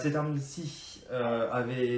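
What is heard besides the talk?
No everyday noises stand out.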